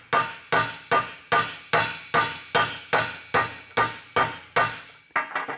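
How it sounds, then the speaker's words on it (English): A hammer strikes a metal driveshaft eleven times in a steady, even rhythm, each blow loud and ringing briefly, followed by a few quicker, lighter taps. "when you're hitting that dude with the hammer"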